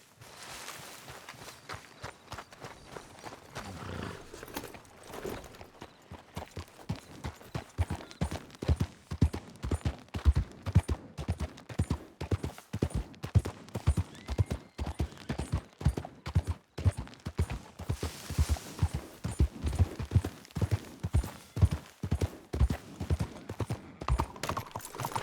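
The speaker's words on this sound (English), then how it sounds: "Tem o cavalo ali." Horse hooves clip-clop steadily in Red Dead Redemption 2, a dense run of sharp, regular footfalls at a walking or trotting pace lasting the whole stretch, fairly close and prominent, with no voices over them.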